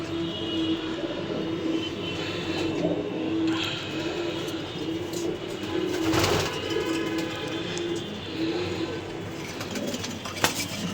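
Racing pigeons in a loft coo in low, repeated throaty calls close by, layered over a steady background rumble and hiss.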